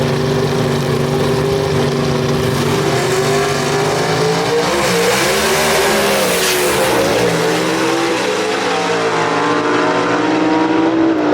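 Gasser drag race cars, a Ford and a big Chevrolet Chevelle, roar at full throttle at South Carolina Motorplex. The engine noise is loud and unbroken, with revving and tire squeal, and no voices.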